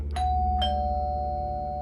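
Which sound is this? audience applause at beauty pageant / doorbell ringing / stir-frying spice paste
doorbell ringing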